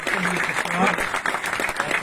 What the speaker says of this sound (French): je vous demande de vous applaudir vous-même